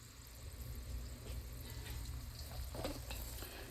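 Garlic cooks gently in a pan over low heat, giving a quiet steady sizzle under a low background hum, with a few faint stirring clicks near the end.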